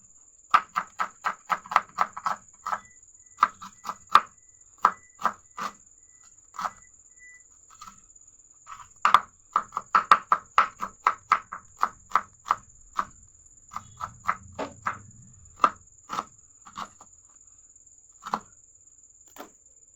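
A knife chops a big onion on a board in quick, crisp, close-up strikes, coming in rapid runs separated by short pauses.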